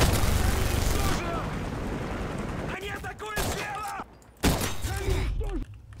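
Rapid bursts of video game gunfire crackle loudly through a dense, busy mix, with a pause and then fresh volleys near the end, and a voice talking over part of it.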